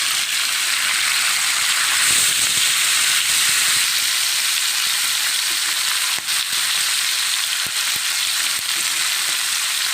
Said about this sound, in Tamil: ரெண்டு பக்கமும் நல்லா ஃப்ரை ஆகிற மாதிரி நல்லா திருப்பி போட்டுக்கணும்